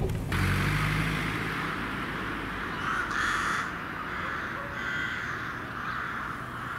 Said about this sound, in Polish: Kruczy gaj, albo wrony. Wroni gaj. Same gniazda wronów, patrzcie.